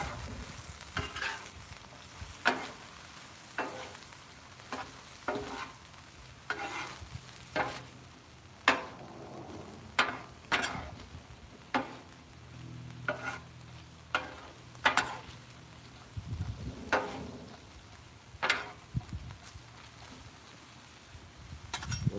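Meat and vegetables fry on a Blackstone flat top griddle, a soft steady sizzle broken by frequent sharp scraping and tapping of a spatula against the steel surface, fairly quiet with no talking.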